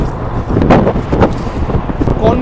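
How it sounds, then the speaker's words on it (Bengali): Cold mountain wind gusts against the microphone near Atal Tunnel, a loud, rough rushing that swells and eases in uneven bursts with no one talking. "কনকনে ঠান্ডা হাওয়া লাগছে"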